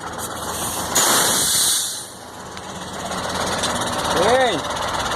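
A Mercedes-Benz 1634 truck engine runs with a steady mechanical drone and hiss, a suspected differential fault making the noise; the sound is close and continuous with slight swells, and people talk nearby.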